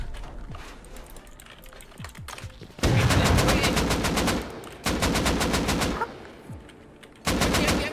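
Bursts of automatic gunfire in the survival game Rust during a raid, loud rapid rattling volleys in several separate bursts, with quieter clicking and distant shots between them.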